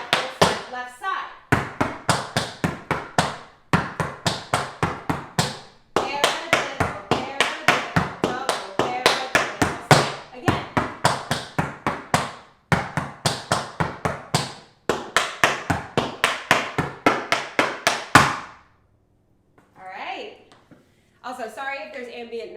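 Rapid tap dance footwork of paradiddles, shuffles, heel-toe beats and stamps on a hard floor, close and loud in quick rhythmic bursts separated by short pauses, ending with a few scattered softer taps.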